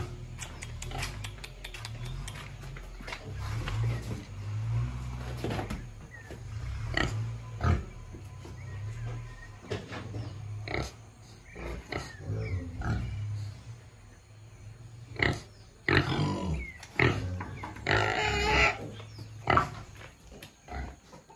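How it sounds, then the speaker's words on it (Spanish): Pigs on a farm in Petoa, Santa Barbara, Honduras grunt and snort in bursts near a feeding delivery, mixed with clanking metal and mechanical rattling, with no talking. "Te asustan los chanchos."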